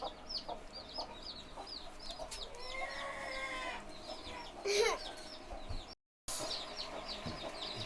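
A hen and her chicks cluck and murmur nearby, with thin peeping calls and a louder squawk, over a steady outdoor background.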